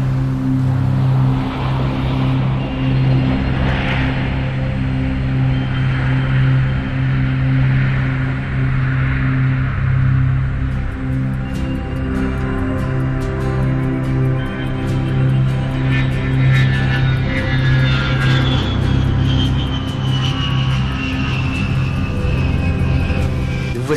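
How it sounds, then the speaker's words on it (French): A Boeing 747-400 taking off in the Flight Simulator X game: a loud, steady jet engine roar that builds into a rising whine during the second half, continuous throughout with no voices. "je vous laisse écouter et voir ce défi à la nature, le décollage d'un appareil"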